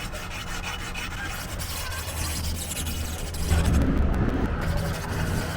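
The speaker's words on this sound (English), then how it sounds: "I've maybe got about 2 or 3 minutes of diamond filing" A diamond file rasping back and forth along the edge of a wood chipper blade, a continuous close scraping that turns louder and coarser partway through.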